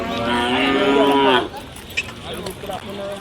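A Khillar cow at the Sangola cattle market lets out one loud, drawn-out moo close by, followed by scattered market clatter and faint background chatter.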